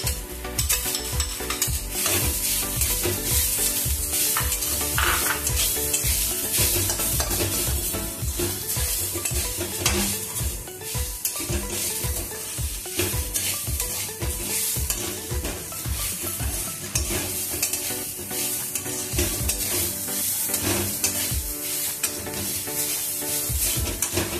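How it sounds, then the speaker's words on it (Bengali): Grated coconut stirred in a wok, a dry soft sizzle under steady rhythmic scraping and rubbing of a spatula against the metal, close and continuous throughout. "নারকেলটা একটু নেড়ে নেব।"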